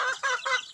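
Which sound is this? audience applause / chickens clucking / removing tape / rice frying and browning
chickens clucking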